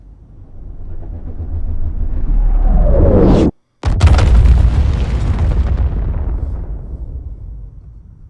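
An A2 MOAB bomb explosion from the game Star Citizen builds into a loud, swelling roar, cuts to a brief silence, then erupts into a huge blast whose rumble slowly fades, with no voices.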